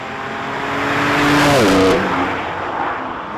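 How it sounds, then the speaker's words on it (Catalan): A BMW M4 Cabrio engine roars loudly as it accelerates in sport mode at Can Padró circuit, the pitch swelling and shifting through a gear change before easing back to a steady drone. "Anem amb esport i això es nota amb la resposta del motor. Si accelerem, sentiu com brama?"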